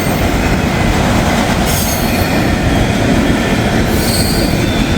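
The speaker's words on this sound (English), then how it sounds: "let's just record the rest of the auto rack train" An auto rack freight train rolls past close by, a loud continuous roar of wheels with high metallic squealing and steady rail rumble.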